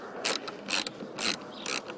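A 7/32 socket ratchet works the grille bolts on a Mustang GT, giving four quick bursts of clicking pawl sounds, close and fairly quiet, with no talk.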